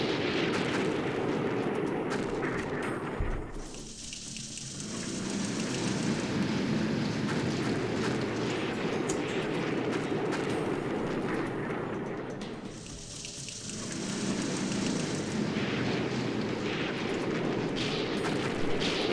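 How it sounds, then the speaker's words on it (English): Heavy bombing in the war game Operational Art of War IV comes as a continuous rumbling, rushing roar of explosions, steady and fairly loud, with two brief dips and no talk. "that's some pretty heavy bombing"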